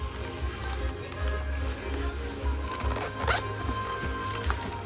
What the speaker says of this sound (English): There's even a zip here.